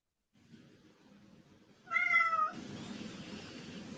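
A pet cat gives one clear, fairly loud meow close by, following a soft rustling and then a lingering room noise.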